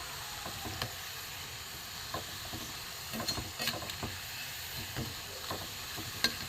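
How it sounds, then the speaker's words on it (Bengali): Balushahi sweets frying in oil, a low bubbling sizzle with scattered quiet clinks and scrapes as the pieces are turned, fairly faint and with no voices. "একটু লাল করে ভাজবো, একটু উল্টো পাল্টে দিই, একটু লাল করে ভাজবো"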